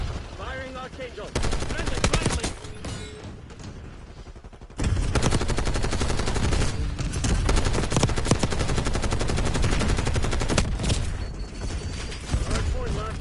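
Archangel weapon firing in a shooter video game, a dense, loud, continuous barrage of rapid gunfire and heavy impacts that fills the whole stretch, with a brief dip partway before the fire resumes just as hard.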